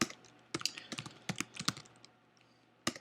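Keys clatter on a computer keyboard in short bursts of clicks with pauses between them, close and clear, ending in a final quick flurry.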